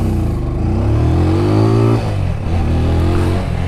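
TVS Apache 200 4V motorcycle in urban riding mode accelerating in a quick drag run, loud close engine note rising steadily, briefly dropping at a gear change, then pulling again.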